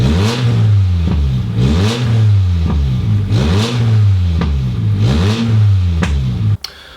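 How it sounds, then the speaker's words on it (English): A Mk1 Toyota MR2 engine revving through a new exhaust in repeated rising bursts, each climb falling back before the next, loud and close, ending with a sharp clunk. "we have a new exhaust, and hopefully it should sound pretty nice."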